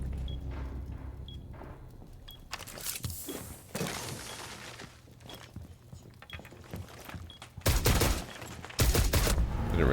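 Video game gunfire from a breaching round, bursts of shots and impacts arriving in clusters with quieter gaps between, growing louder and denser toward the end.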